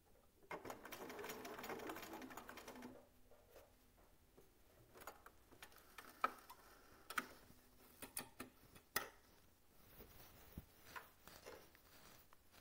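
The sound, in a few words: sewing machine stitching a seam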